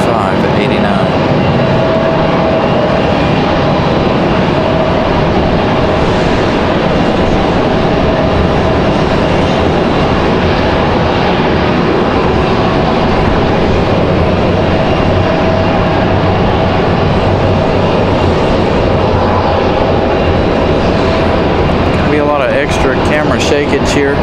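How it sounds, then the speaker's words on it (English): PSA Airlines regional jet arriving at Raleigh-Durham from Washington Reagan, a sustained loud engine roar that swells and lingers, with wind buffeting and someone speaking over it at times. "This one coming in from Washington, D.C. via Reagan. This is PSA Airlines, PSA"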